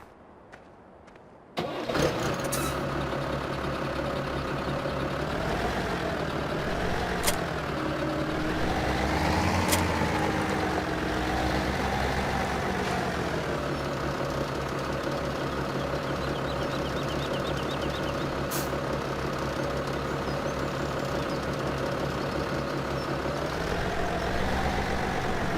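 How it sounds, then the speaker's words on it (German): A tractor engine in the Farming Simulator 17 video game runs steadily at a constant drone for the whole stretch after a brief quiet start, with a few small pitch shifts and no talking. "Und jetzt rein in den Traktor."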